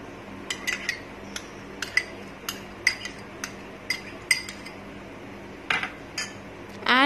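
A spoon stirring oats, curd and milk in a bowl, with a series of sharp clinks against the dish at uneven intervals, close and clear over a quiet background, no talk.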